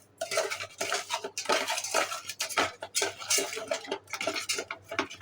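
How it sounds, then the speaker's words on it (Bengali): Fish being rubbed with turmeric and salt in a dish gives irregular soft scraping and clinking, with close, dense bursts of handling noise against a faint low hum. "মাছটাকে এখন হলুদ আর একটু লবণ দিয়ে মেখে নেব।"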